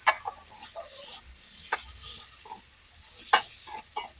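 Carrots being stir-fried with pork in a pan: soft sizzling broken by scattered sharp scraping and stirring clatters from a utensil, close and fairly quiet.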